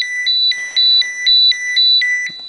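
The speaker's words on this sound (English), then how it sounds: "The annoying little alarm will go off." A Terra-P Geiger counter's alarm sounds loud and close, a two-tone electronic beep alternating rapidly and evenly between high and lower pitches in a repeating pattern.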